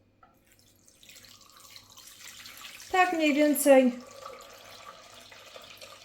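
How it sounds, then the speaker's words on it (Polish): Cold tap water running into a pot holding jars for pasteurizing blueberries, a quiet stream swelling into a louder gush for about a second, with someone briefly speaking. "Zalewamy zimną wodą."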